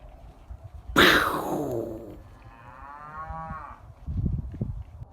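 Cattle chasing a coyote off a farm property give one long, loud, drawn-out moo close by, followed by lower grunting and shuffling noises near the end.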